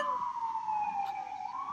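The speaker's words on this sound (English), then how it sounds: "fire engines? 3 of them?" A fire engine's siren wails past on a city street, one long descending tone that drops as the truck passes, then begins rising again at the end, moderately loud over faint traffic rumble.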